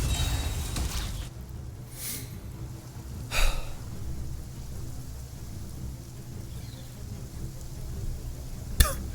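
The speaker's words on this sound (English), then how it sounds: "at least it's raining" Steady rain hisses throughout, with a couple of sharp gusts or cracks and a low rumble in the background.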